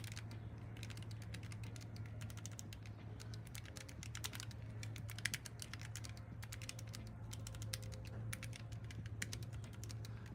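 Rapid typing on a computer keyboard during a typing test, fast irregular key clicks running continuously over a low steady hum, fairly quiet and close.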